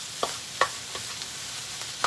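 Onions and peppers fry in a pan with a soft, steady sizzle, broken by a few sharp utensil clinks and scrapes as they are stirred.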